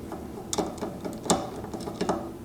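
Small mechanical clicks and ratcheting turns from a No. 3 Phillips screwdriver backing out cord clip screws on a Bosch GCM12SD axial glide sliding miter saw, a few quiet irregular bursts close by.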